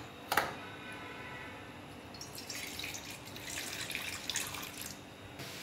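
After a brief knock, water for boiling semolina pours and splashes into a pan on a gas stove, a rushing trickle that rises and continues for a few seconds, close by.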